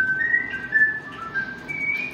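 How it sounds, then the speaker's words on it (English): A person whistling a wavering, sustained tune close by, a few drawn-out notes sliding in pitch over about two seconds, alone and clear. "here goes whistling again"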